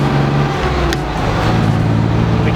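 A 1965 Austin-Healey 3000 MKIII speeding up toward highway pace, its engine a loud, steady drone with strong low rumble, heard close from inside the car.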